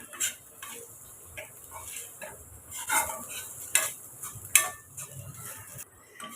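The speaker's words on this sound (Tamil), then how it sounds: "இப்போ நம்ம கலந்து விட்டுக்கலாம்" Cooked rice is stirred into a capsicum mixture in a pan, with a series of quiet spoon scrapes and clinks against the metal over a faint low sizzle, without talking.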